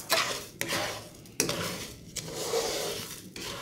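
A spoon scraping and stirring through sugar melting in a pan, rhythmic metallic scrapes with sharp knocks against the pan every second or so over a soft bubbling hiss, close up.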